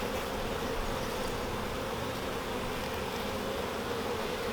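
Honeybees buzz steadily inside a newly installed hive during a first inspection, a dense, continuous hum with no pauses or voices.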